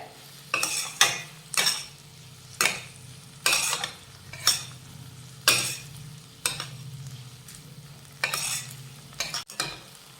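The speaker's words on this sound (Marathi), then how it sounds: "ते दहा लसूण पाकळ्या बारीक चिरून घेतलेल्या आहेत ते सुद्धा घालूया आणि ह्या कांद्या टोमॅटो सोबत परतून घेऊयात" Ten finely chopped garlic cloves sauté with onion and tomato in a pan, stirred with a spatula in about ten distinct, rhythmic scraping strokes over a continuous close sizzle.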